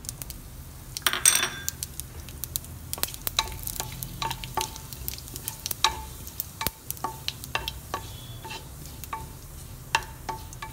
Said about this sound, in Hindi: जब ये जीरा फ्राई हो जाए, भून जाए